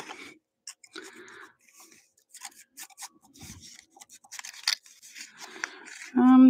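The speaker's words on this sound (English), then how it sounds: "And I'm going to cut this off." Scissors snip through packing paper in a series of short, uneven cuts, close and fairly quiet, with brief pauses between them and a louder tone at the very end.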